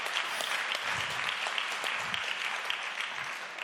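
An audience at the World Health Summit 2016 closing ceremony claps in a sustained round of applause, a dense crackle of many hands that fades slightly toward the end.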